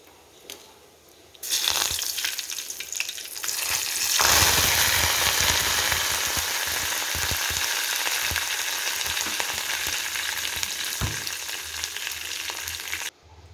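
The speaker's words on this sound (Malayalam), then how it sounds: "മുക്കാൽ ടീസ്പൂൺ കടുക് ഇട്ട് കൊടുത്തിട്ടുണ്ട് കടുക് പൊട്ടി വരാനായിട്ട് തുടങ്ങിയിട്ടുണ്ട്" Mustard seeds splutter and crackle in hot oil with dried red chillies and curry leaves, a loud, steady sizzle dotted with sharp pops and no talking.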